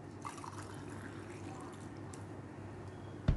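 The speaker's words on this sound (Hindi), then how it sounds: "इसमें मैं थोड़ा सा पानी भी डालूँगी" A small amount of water is poured during home cleaning, giving a soft, steady trickle heard faintly against quiet background, ending in a brief louder knock.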